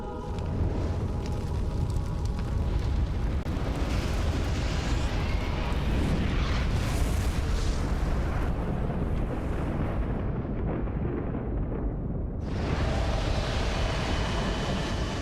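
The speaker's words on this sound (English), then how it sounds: "He's firing his laser." Enemy laser beam firing in Dark Souls, a sustained roaring, rushing blast that stays loud and steady for many seconds, cuts out briefly, then surges back.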